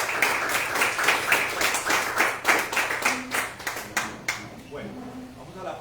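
A church congregation applauds at a Sunday service, a steady run of hand claps that thins out toward the end, while a voice carries on speaking over it and low background sound hums throughout.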